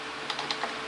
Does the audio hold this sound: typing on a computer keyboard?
yes